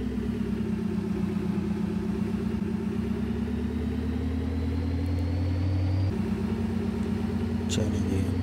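A truck rolls along in Farming Simulator 22, its engine giving a steady, continuous mid-range drone that holds fairly even from start to finish.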